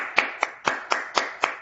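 Steady hand clapping at a seminar, six crisp claps in an even rhythm, close and fairly loud, with no voices.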